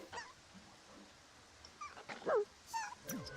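A dog in The Sims 4 gives a few faint, short yips and whiny barks, scattered and quiet against a soft background.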